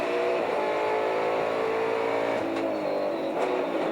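Touring car accelerating out of a corner at Symmons Plains during the 1996 Australian Touring Car Championship, its engine note rising and revving hard, loud and continuous with faint track ambience.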